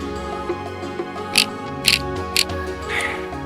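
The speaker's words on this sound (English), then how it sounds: "this motor is not even connected. And it also kind of sounds a little broken." A broken vibration motor in a Chinese PS3 controller, running with a buzzing, grinding mechanical rattle and several sharp clicks, close and alone.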